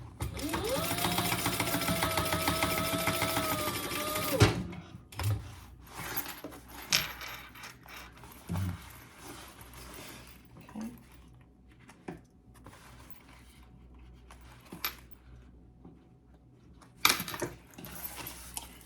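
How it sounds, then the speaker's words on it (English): A sewing machine top stitches a one-piece lining in a fast continuous run lasting about four seconds, followed by quieter scattered handling clicks and rustles of the fabric. "And with the lining, just like this, we're going to do the same top stitch"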